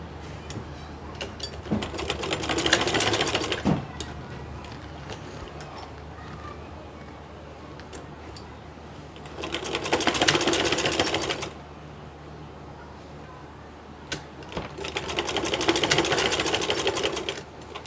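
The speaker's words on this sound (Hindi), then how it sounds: "फिर इसको फिर यहाँ से सिलाई होगी इसकी" A sewing machine stitches the collar of a kameez in three separate bursts of fast, steady whirring, each a couple of seconds long, with quiet handling noise between runs.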